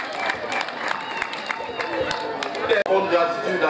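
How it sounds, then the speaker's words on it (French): Audience applause at a summer-holiday community event in Njisse-Foumban, a dense continuous wash of clapping with crowd noise and chatter mixed in, steady and fairly loud, with a brief dip near the end. "Des ovations une fois de plus. On a demandé d'applaudir."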